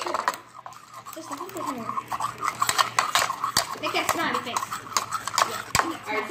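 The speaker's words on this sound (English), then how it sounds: "We're stirring it up." Seafood sauce being stirred, a steady rhythm of scraping and clicking from a utensil against a container, close, under near-constant talking.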